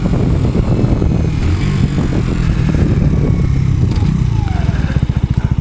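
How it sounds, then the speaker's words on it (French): A Mash 125 motorcycle engine rumbles steadily up close, then settles into a loud, pulsing idle with distinct rhythmic thumps toward the end, wind buffeting the mic. "qui change un peu le bruit de la moto"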